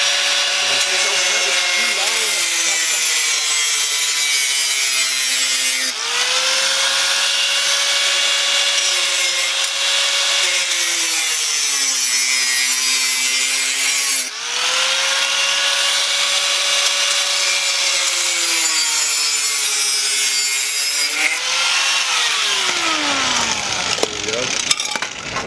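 Sandpaper rubs back and forth across a car exhaust pipe during a homemade muffler delete on a 2014 BMW 328i, producing loud, continuous scraping strokes with a rising and falling tonal squeal, long rhythmic passes up close with no pauses.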